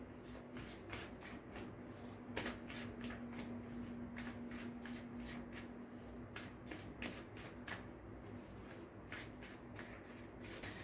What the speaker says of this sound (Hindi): चलिए एक कार्ड और लेते हैं इसी डेक से.